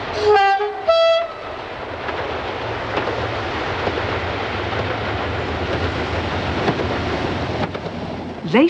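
A train hauled by a Class 47 and 37412 locomotive on the West Highland line, Scotland, rumbles steadily along the rails, preceded by a brief two-tone horn blast, loud and continuous throughout.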